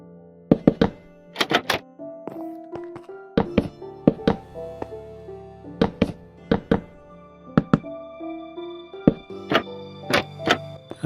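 Blocks being broken in the video game Minecraft while knocking out a wall, heard as repeated sharp thunks and knocks in irregular clusters over a steady tonal backdrop of game music, with no talking.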